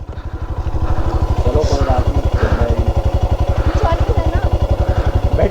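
A motorcycle engine idles with a rapid, even thumping pulse, close and steady throughout, while people talk over it.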